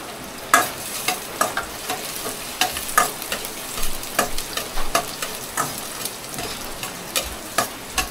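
Onion and garlic sizzling in a hot pan while being stirred, with a steady frying hiss and frequent sharp scraping taps from the utensil, close and fairly loud.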